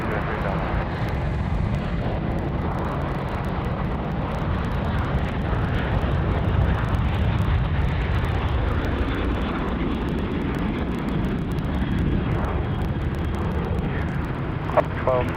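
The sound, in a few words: Qantas Airbus A380 aircraft at Sydney Airport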